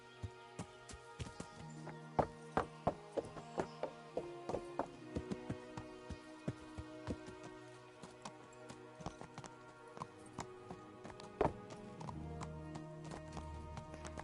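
Horse hooves clip-clop steadily in a medieval village in Kingdom Come: Deliverance, a rhythmic run of sharp taps over background game music, close and moderately loud.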